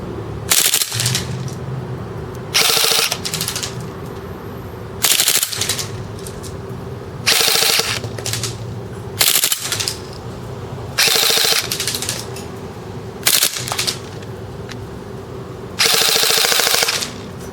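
A CO2 gas blowback airsoft gun fires full auto in eight or so loud, rapid bursts of sharp cracking shots, each lasting about a second, separated by short pauses.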